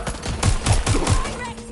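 Gunfire in the video game Watch Dogs Legion, a quick string of four or five punchy shots up close, with a faint voice in the background.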